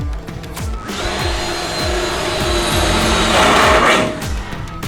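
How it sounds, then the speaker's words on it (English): A power drill bores a series of holes through wooden drawer tops. The motor whines loudly and steadily with a rhythmic pulsing as the bit bites, and no one talks. "pulled the tops of the drawers off so I can drill a bunch of holes in there"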